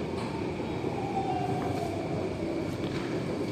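Singapore MRT Downtown Line train at a station platform, a steady rumbling hum of the train stopping across the platform, continuous and fairly close with no speech.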